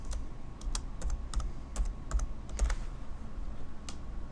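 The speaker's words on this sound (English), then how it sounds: "Type in or choose the email address for the requester." Keys clatter on a computer keyboard in quick, irregular taps, close and moderately quiet, with no one speaking.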